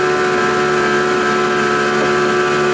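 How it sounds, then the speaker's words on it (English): A motorboat's engine drones loud and steady at close range as the hull climbs onto plane, a dense continuous roar with no voices over it. "Once that boat gets up and plane and starts to level out, I'll give her a little bit more."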